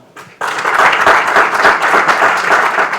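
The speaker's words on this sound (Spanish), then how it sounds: "les pido un aplauso para ellos" After a brief quiet start, an audience in a lecture hall bursts into loud, close applause that stays dense and sustained, many hands clapping together with no one talking.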